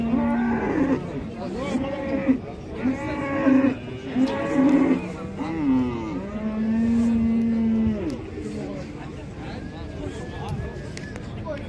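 Male calves about seven months old moo repeatedly at a livestock market, loud and close, with long drawn-out calls mixed with people talking nearby.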